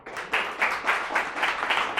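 Audience applause at a programming meetup after a presentation, a steady wash of many hands clapping at moderate distance, rising and falling slightly with no voices.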